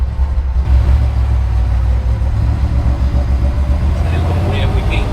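A Ford Cleveland V8 in a truck idles and rumbles heavily up close, a deep steady throb that stays loud throughout while people talk over it.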